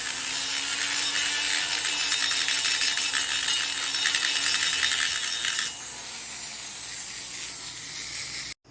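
A chainsaw exhaust port is being sanded and polished toward a mirror finish, a steady abrasive rasping hiss that runs for about five and a half seconds, then cuts to a quieter background before ending.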